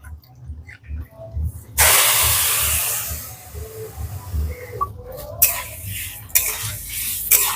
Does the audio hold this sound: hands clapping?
no